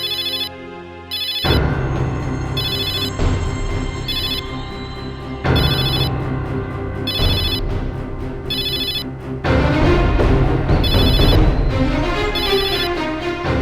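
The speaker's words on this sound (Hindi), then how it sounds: "फोन उठाओ या फिर कट करो।" Repeating electronic ringtone from a phone ringing loudly and insistently in bursts over an ongoing musical tone, with no talking.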